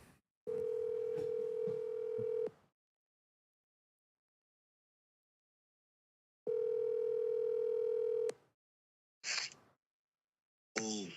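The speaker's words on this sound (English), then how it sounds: "Let's get Raheem on the phone here" Telephone dial tone during a live call-in, steady tone for about two seconds, silence, then a second long stretch of tone, followed by short bursts of brighter ringing or connection sounds at the end.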